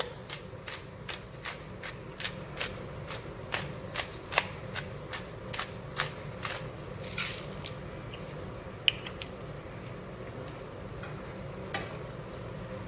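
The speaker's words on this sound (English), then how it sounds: "And then we will add fresh cracked black pepper." Fresh black pepper cracked from a grinder over a thickening, creamy cheese pasta sauce, giving a steady run of soft, regular crunchy clicks, close and fairly quiet, with no talking.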